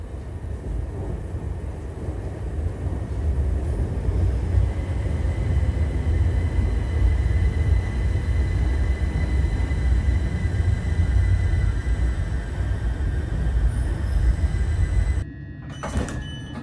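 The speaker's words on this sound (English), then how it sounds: "let's head on to the platform and let's await our train to Shoeburyness" A c2c train to Shoeburyness at London Fenchurch Street station, heard as a steady low rumble of idling or departing stock with broadband platform noise throughout, dropping away briefly near the end.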